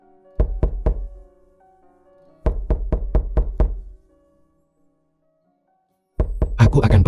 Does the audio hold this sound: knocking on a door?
yes